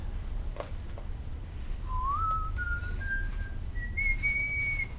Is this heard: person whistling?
yes